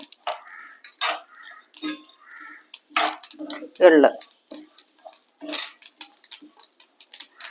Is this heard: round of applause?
no